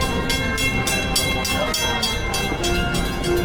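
The Walt Disney World Railroad train in Orlando, Florida rolls steadily past, its rumble broken by a regular rhythmic clatter of wheels over the track.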